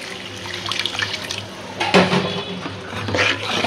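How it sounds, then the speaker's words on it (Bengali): Water pours into a pan of spiced masala for a shing fish curry, making a close, gushing splash that swells and fades over a few seconds against a low background hum. "আর একটু পানি দিয়ে দিই।"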